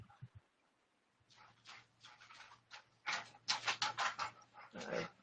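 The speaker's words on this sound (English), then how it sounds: "Dog incoming." A dog nearby makes quick rhythmic panting and snuffling bursts that grow louder toward the end, with no talk over them.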